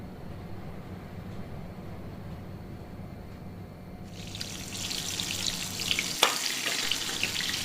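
Pointed gourd pieces fried in oil, a soft background hiss that swells into louder close sizzling partway through, with a brief stirring clatter and no talk.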